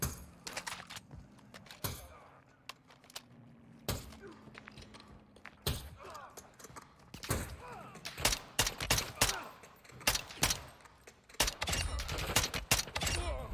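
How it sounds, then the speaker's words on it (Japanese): Gunfire in Call of Duty DMZ crackles in sharp, irregular bursts and single shots, some distant and some closer, under quiet game ambience with occasional thumps and a voice now and then. "この銃声違う？"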